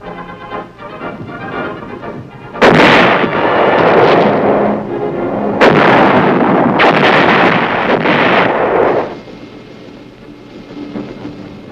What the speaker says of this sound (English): the 175s reliably deliver shells with pinpoint accuracy on targets over 10 miles away